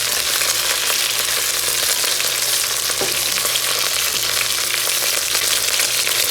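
Chicken browns in hot coconut oil in a pan for Jamaican-style brown stew chicken, giving a steady, dense sizzle and crackle that runs the whole time with nobody talking.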